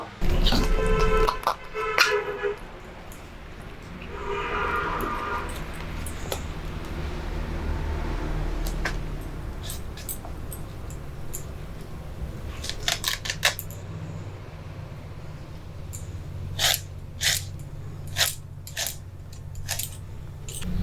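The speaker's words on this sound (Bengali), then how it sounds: "এই বাসি জলেই মোচাগুলো কেটে রাখবো" Knife cutting pieces of banana flower into a bowl of stale water in a home kitchen, giving a run of sharp, close clicks and taps with soft splashing and scraping between them.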